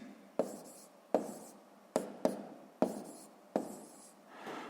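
Numbers being written by hand for a sixth-grade maths multiplication exercise: six distinct scratchy pen strokes on paper, each a sharp tap trailing into a brief scrape, close and clear against a quiet room.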